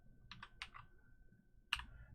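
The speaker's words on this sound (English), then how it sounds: "I'm going to type in here system.out" Keys clatter on a computer keyboard as code is typed in: a quick cluster of four or five close taps, a short pause, then one sharper keystroke, all quiet against a faint steady tone.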